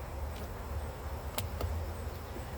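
Honey bees drone around frames lifted from a hive, a steady low hum close to the microphone with a couple of faint ticks.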